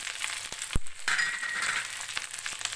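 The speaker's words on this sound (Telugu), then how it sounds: "కారం ఇవన్నీ ఆయిల్లో ఫ్రై అవ్వాలి" Chilli powder, salt and spices frying in hot oil for tomato rice, a bright continuous sizzle with crackles, a few sharp clinks and stirring scrapes close up.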